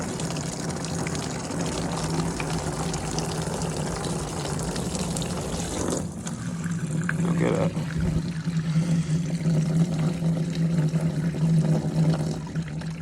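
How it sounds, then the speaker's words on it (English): Coolant pours and gushes steadily out of a car engine with a blown head gasket, a continuous splashing stream that swells partway through, with a brief remark spoken over it. "That's where all the coolant went."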